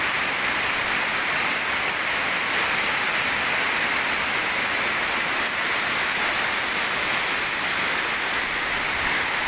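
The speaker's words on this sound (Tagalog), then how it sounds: "Kitang-kita mo talaga yung pagbagsak ng tubig." A waterfall pours steadily from above, its water falling in a dense, continuous roar of broadband rushing noise, loud and close, with no voices for the full length.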